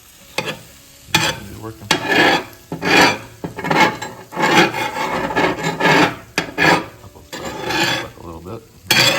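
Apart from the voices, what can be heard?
metal spatula stirring scrambled eggs on cast iron griddle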